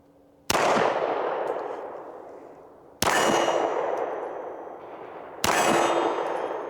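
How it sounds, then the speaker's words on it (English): Three single shots from a Springfield Echelon 4.0C compact pistol at a range, each a sharp loud crack with a long ringing decay, spaced a few seconds apart with no talk. "Gun shoots pretty well."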